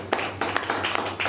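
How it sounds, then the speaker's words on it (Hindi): Short burst of audience clapping during a business plan presentation, uneven and fairly close, with several quick claps bunched together over about a second. "एक बार जोरदार तालियां"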